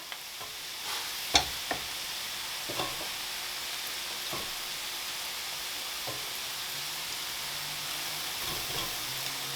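Cheese kottu made of chopped roti being mixed with mutton curry on a hot pan, a steady sizzle with occasional scraping clinks of the utensil against the pan, close and alone.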